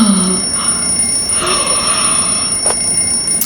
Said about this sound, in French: on met les chaussons et on arrête cette alarme